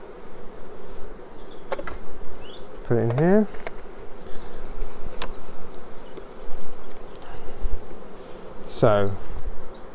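Steady buzzing of many honey bees at an open hive fills the air close by, with a person speaking briefly over the hum.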